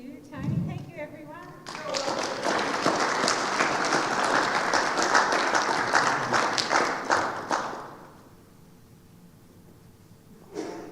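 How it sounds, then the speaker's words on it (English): An audience at a club's general meeting and awards night breaks into warm applause lasting around six seconds. Brief speech comes just before it, and the clapping fades into a quiet room. "Round of applause, everyone."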